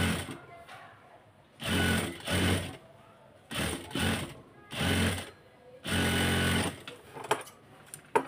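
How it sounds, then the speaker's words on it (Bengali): A sewing machine stitches a round neckline in several separate bursts of fast, buzzing runs, each lasting about half a second to a second, with quiet pauses between and no speech. "মুখটা দিয়ে একটা সেলাই দিয়ে দিব"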